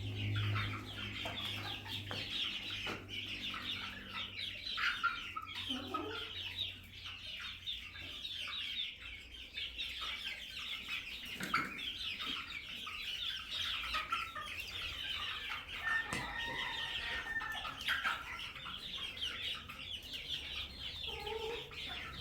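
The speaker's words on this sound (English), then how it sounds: "That's a hen right there, and she is beautiful." Hens on a homestead in Guanajuato, Mexico, cluck and chatter continuously up close in a busy flock, with scattered louder squawks over a constant high buzzing background.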